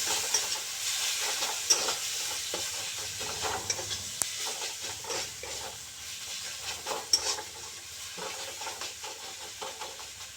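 Chicken cooked with chana dal frying in a pan, a soft steady sizzle beneath repeated scraping and tapping of a spoon stirring, fairly quiet and close.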